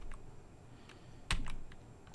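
Keys tap on a computer keyboard while code is typed, a few light scattered clicks with one sharper, louder keystroke in the middle, close and quiet with no talking.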